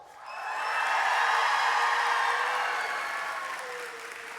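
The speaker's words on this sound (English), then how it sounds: "let's hear the biggest cheer of all." Graduates at an Athabasca University convocation cheer and applaud in a large hall, their clapping swelling quickly into a loud, sustained roar of voices that slowly eases off.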